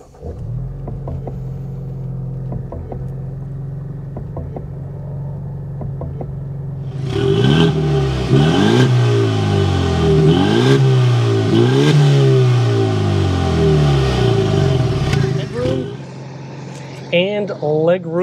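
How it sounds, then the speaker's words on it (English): A Ford Mustang EcoBoost convertible starts up, its exhaust rumbling and revving repeatedly in loud, rising and falling bursts after a quieter interior stretch, with a person talking around it. "start up this EcoBoost so you can hear that exhaust now"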